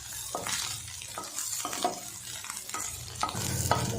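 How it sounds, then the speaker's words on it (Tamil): Grated coconut is stirred and sautéed in a pan for tomato chutney, giving repeated scraping stirs over a soft, steady sizzle, close up with no talking. "இந்த தேங்காயோட பச்சை வாசம் போகிற அளவுக்கு நல்லா மிக்ஸ் பண்ணிவிட்டு வதக்கிக்கலாம்."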